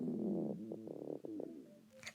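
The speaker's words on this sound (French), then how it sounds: "Son ventre gargouillait." A hungry stomach gives one close, low gurgling rumble with a few bubbly pulses that fades over about two seconds. No one speaks.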